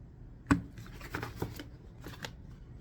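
A knife slices through flexible pond liner along a marked line while building a bog filter, opening with one sharp close snip followed by a few softer, irregular cutting and rustling sounds.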